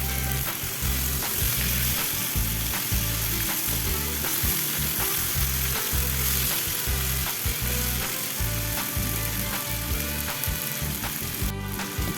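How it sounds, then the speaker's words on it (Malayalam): Fish fries in coconut oil in a pan, a steady, close crackling sizzle with a pulsing bubbling rhythm that runs unbroken throughout. "അപ്പോൾ അതാ മീനൊക്കെ 2 സൈഡും നന്നായിട്ട് മുരിഞ്ഞ് വന്നിട്ടുണ്ട്."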